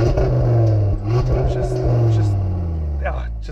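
An Audi's exhaust revs loudly up close, a deep throaty roar that climbs and then slowly falls away, with crackling pops near the end.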